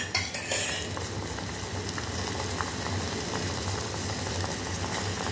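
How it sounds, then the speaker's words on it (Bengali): Kalojam sweets boiling in sugar syrup in a home kitchen pan, a steady close bubbling simmer with a soft continuous hiss and occasional light clinks of a utensil against the pan. "এটাকে আমি রসের মধ্যে এভাবে ফুটিয়ে নেব।"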